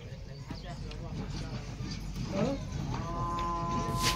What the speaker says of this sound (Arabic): معنا اربع خرفان يا اخواننا